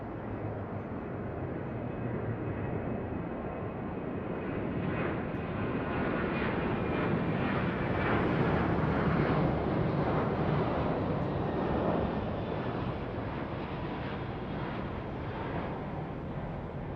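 A Qantas Boeing 737-800 takes off from runway 34 right at Sydney Airport, a broad, distant jet roar that swells gradually to a peak and then slowly eases, heard without talk.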